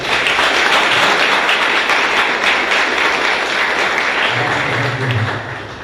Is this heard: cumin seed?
no